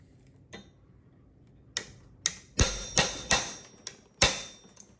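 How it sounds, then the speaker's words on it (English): Sharp metallic hammer strikes knock out a connecting rod bolt on a Porsche 964 engine, about eight irregular close blows, the later ones louder and quicker, with no talk. "one of the things that we're going to have to do is pop that rod bolt out."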